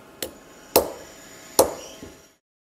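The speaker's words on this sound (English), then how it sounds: "the most important tool isn't anything small and delicate, but a hammer" A hammer taps handmade British scissor blades to align them, giving three sharp metallic knocks at uneven intervals and a fainter fourth tap, each ringing briefly, close and clear with no talking.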